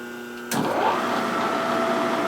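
A machine cuts into a part for a 1946 Harley knucklehead engine rebuild, starting abruptly after a moment of quieter shop hum and then holding a steady, loud, broadband grinding whir with no talk.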